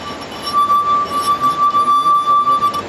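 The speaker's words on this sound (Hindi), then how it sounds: "अगर मैं इसके ऊपर इस तरीके से हाथ घुमाता हूँ तो भी देखो उसी फ्रीक्वेंसी की आवाज़ निकलती है" A clear, sustained ringing tone from a finger rubbing a glass rim, steady and pure, with a faint rhythmic swell under it.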